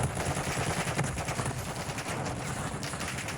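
Sustained gunfire from the video game Warzone 2, set in Al Mazrah: dense, continuous rapid bursts like a machine gun, loud and close, with no talk over it.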